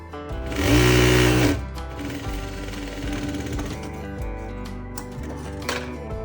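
Sewing machine running a straight seam on a blouse, a steady rapid mechanical chatter that surges loudly near the start, then continues at an even, close, moderate level without any talking.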